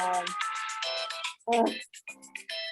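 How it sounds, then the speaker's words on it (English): A playful melodic phone ringtone going off during a parks and recreation public meeting, a bright tune of quick chiming notes with brief gaps, loud and close. "That's a fun ringtone."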